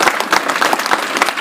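Audience applauding soldiers at an Indian cultural gathering, a dense burst of many hands clapping in quick irregular patter, loud and close, with no talk over it.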